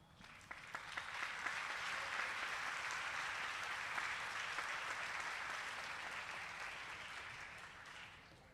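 A theater audience applauds in a dense, steady wash of clapping that carries on for several seconds, heard from a slight distance and gently tapering at the end.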